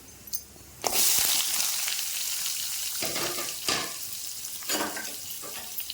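Onions sauté with cumin in a pan for rajma curry, a loud hiss that swells suddenly and then holds steady, broken by several bursts of stirring and scraping.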